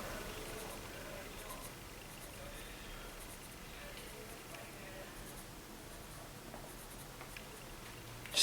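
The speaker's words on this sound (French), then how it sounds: "On va maintenant colorer l'iris avec le crayon pastel noir" Soft, steady scratching of a black pastel pencil coloring the iris of an eye drawing on paper, faint and continuous against a quiet room background.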